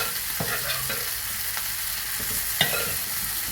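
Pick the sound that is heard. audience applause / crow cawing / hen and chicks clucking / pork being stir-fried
pork being stir-fried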